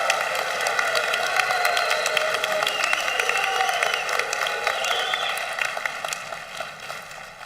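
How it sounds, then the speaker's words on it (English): Audience applause at a Northern California 2024 commencement ceremony, a dense, steady wash of clapping and crowd noise filling the whole stretch before fading slightly at the end. "Please give a round of applause"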